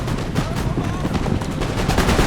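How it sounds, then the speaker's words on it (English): Musket line volley fire in the video game Napoleon: Total War, a loud crackling fusillade of many overlapping shots rolling on continuously across a short stretch of battle. "There's my line firing at his."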